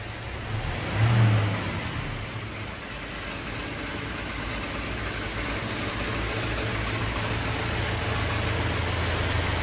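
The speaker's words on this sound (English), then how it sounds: "Great running engine" A 1970 Ford Mustang Mach 1 with the 428 Ram Air Cobra Jet V8 and four-speed, running close by with a deep steady idle, one brief rev swelling early, then a low even rumble.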